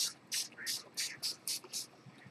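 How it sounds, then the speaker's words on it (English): A hand spray bottle fires about seven quick, crisp squirts of water in an uneven rhythm, close and fairly quiet, during paper crafting. "I'm spraying water."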